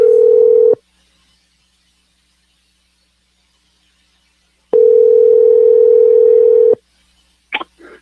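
A steady telephone dial tone sounds twice while a call is placed, a short burst and then a longer two-second stretch, with a brief squeal of dialing noises at the end.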